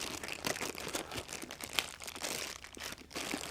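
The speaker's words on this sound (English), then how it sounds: "Take a nice plastic bag off" A plastic bag crinkles and rustles as it is pulled off an aircraft oil filter, a steady close-up crackle of handled plastic running throughout with small sharper crunches.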